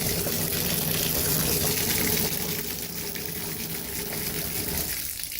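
Water runs steadily into a bathtub, a continuous close gushing stream that eases slightly toward the end.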